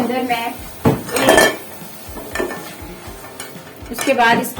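A saucepan on a stove is handled and set to heat, giving clanks of metal and utensil knocks with faint stirring, moderately close, while someone talks at intervals.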